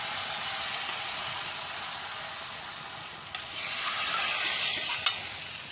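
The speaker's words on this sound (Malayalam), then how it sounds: "നമുക്ക് നമ്മുടെ അയിലക്കൂട്ടാനിലേക്ക് ഒഴിച്ച് കൊടുക്കാം" Liquid is poured into a pan of mackerel fish curry, giving a steady hissing sizzle with a brief clatter and a swell of bubbling partway through, close and continuous.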